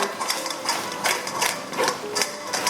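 A pastry scraper pushes vegan macaron mixture made with potato protein through a sieve, giving steady, rhythmic rasping strokes about every third of a second, close and fairly loud with no talking.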